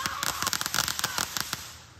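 Fireworks on the 4th of July, a rapid string of sharp crackling pops from a firecracker-style burst, loud and close, fading out toward the end with no talking.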